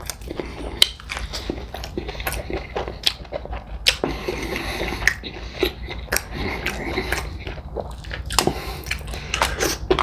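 Loud, close crunching and wet smacking while eating extra crispy fried chicken legs and thighs, a steady run of crisp bites and chews with no talking.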